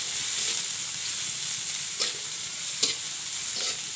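Chopped onions sizzle and crackle steadily in hot oil in a pan while a duck curry with ground spices is cooked, with a few sharp scraping stirs cutting through the continuous hiss.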